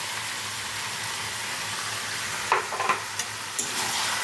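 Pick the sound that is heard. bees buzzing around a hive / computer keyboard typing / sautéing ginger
sautéing ginger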